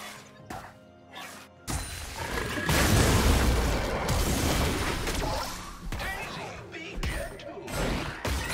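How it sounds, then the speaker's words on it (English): Turret destroyed in League of Legends, a loud crashing explosion that swells and rumbles for several seconds, preceded by short game effects and followed by smaller impacts. "Team's turret has been destroyed."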